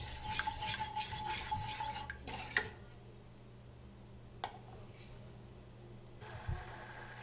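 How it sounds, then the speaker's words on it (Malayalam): A spoon stirs sugar into a mixture in a pan while making madakku sevai, a tea-shop sweet, giving soft scraping and clinking against the pan with a few sharper taps, fairly close and quiet. "ഈ ഷുഗർ ഒന്ന് ഇതിലേക്ക് മിക്സ് ചെയ്ത് കൊടുക്കാം."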